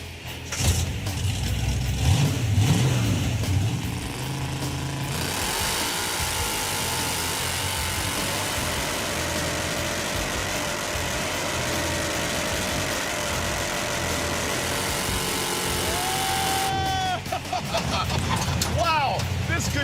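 A Model A chassis Gremlin with a Hemi engine roars at sustained high revs, a loud continuous drone that holds for many seconds before tailing off, with people talking over it at the start and end.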